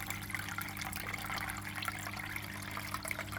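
An Aquael Versamax 2 aquarium filter runs with a steady, close trickle and splash of moving water, a continuous watery wash with a low hum beneath it throughout.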